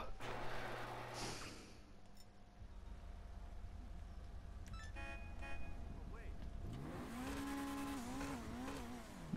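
A sports car engine revs up and down in the video game Hijack Ruston, the pitch rising and wavering, with a short horn toot and a voice talking earlier.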